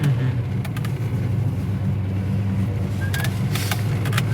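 A 1970 Chevy Chevelle engine runs steadily through the gears, a continuous low rumbling drone heard from inside the car, with a few faint clicks and rattles over it.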